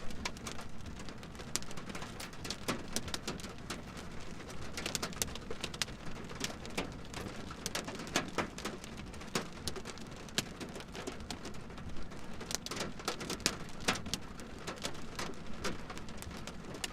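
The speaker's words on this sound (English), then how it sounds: "That's like really tiny little pieces of hail over there." Steady rain mixed with tiny pea-to-dime-size hail patters hard and constantly on surfaces during a storm near Hereford, with dense sharp ticks of impacts throughout and no talking.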